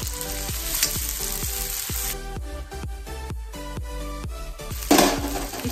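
Onion and green chilies frying in oil over a full flame make a loud continuous sizzle, with rhythmic clacks of a spoon or spatula against the pan throughout and a sharp burst of spitting toward the end.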